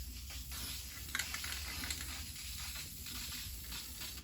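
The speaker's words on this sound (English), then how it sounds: "We're going to spray these areas because it needs it." A spray can of self-etching primer hisses steadily in short and longer bursts, quiet and close, with no talk over it.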